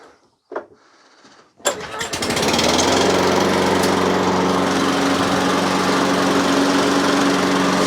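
A Cobra lawnmower engine with a carburetor fault is pulled and catches after a couple of tries, then runs loud and steady on choke with a continuous droning roar.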